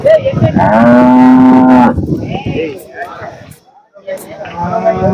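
A Jersey cow gives a loud, drawn-out moo close by at a cattle market, followed by quieter lowing and background voices and farmyard noise.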